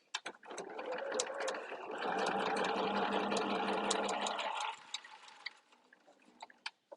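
A sewing machine runs a quarter-inch top stitch through fabric, a close, continuous mechanical whir with rhythmic needle ticking for several seconds, then stopping, followed by light clicks.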